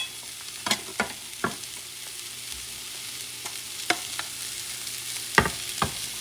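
Rice being fried in a pot gives a soft sizzling bed under intermittent sharp scrapes and clicks of a spoon stirring, with no voices.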